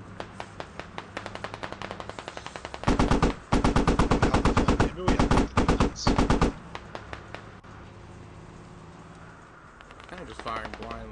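Automatic gunfire in the Squad shooter game: dense rapid bursts of shots fired blindly at enemies, loud and close, in several clustered volleys followed by quieter background action.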